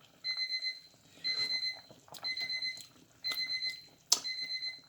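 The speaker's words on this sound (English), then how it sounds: "That buzzer there is my buzzer." Kitchen timer buzzing while rice porridge cooks, sounding in four or five evenly spaced bursts of rapid electronic beeps, close and clear with a sharp click near the end and no talk.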